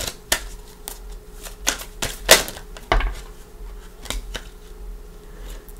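Tarot cards are shuffled in scattered sharp taps and brief riffles, with one louder flurry in the middle, close and moderately quiet.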